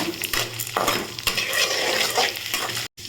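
Small onions and other ingredients sautéing in a pan with a steady sizzle, while a utensil stirs and scrapes against the pan in repeated strokes, close and fairly loud, with no speech.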